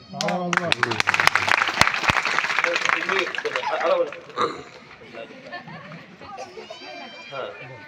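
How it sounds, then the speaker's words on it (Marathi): Dense crowd applause at a Birsa Munda Jayanti community gathering in Kurunda, Gajanan Nagar, with loud clapping and chatter for about four seconds before the clapping dies away and people keep talking. "तर तुम्ही टाळ्या वाजवल्या सगळ्यांनी, जोरदार टाळ्या वाजवल्या"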